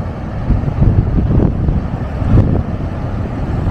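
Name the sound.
rough sea and wind on Moroccan coast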